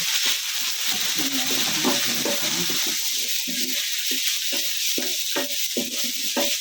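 A potato cutlet mixture with ginger-garlic paste frying lightly in a pan, a steady hiss running throughout with scraping stirs and short clinks in a rough rhythm, close and moderately loud.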